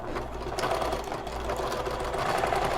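Sewing machine stitching seams on a fabric bag, a close, steady motor whir and rapid needle chatter running continuously without a break.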